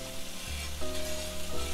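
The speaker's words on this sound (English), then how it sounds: "I've got that sizzle going that I wanted" Lamb loin chops sizzle steadily in a hot pan, a continuous crackling fry with no voices.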